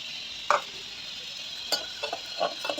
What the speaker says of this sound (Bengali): এখন এটা ভালো করে মিক্স করবো।